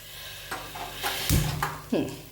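Several scraping, clattering strokes of a utensil stirring seasoned rice in a pan, irregular and close, with a faint sizzle underneath.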